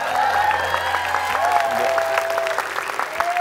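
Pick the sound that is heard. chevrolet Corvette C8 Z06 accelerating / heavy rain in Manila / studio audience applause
studio audience applause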